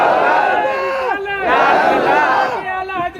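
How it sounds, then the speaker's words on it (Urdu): A crowd shouts religious slogans in unison at an Islamic jalsa, loud and close, with rising chanted voices following each other in quick waves. "میں نعرے لگانے والا ہو تو لگا دے"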